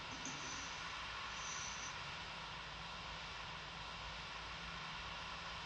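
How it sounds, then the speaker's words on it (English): Aircraft engines in the FSX Flight Simulator game produce a steady, droning cockpit hum at an even moderate level, with no voices over it. "we'll just shut this plane down right now"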